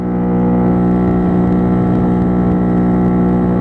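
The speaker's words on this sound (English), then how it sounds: "It's definitely a bit throaty with that exhaust on it." A Bullit Hero 50cc motorcycle with an aftermarket exhaust sends out a steady, throaty engine drone, loud and close, holding an even tone throughout with no talking.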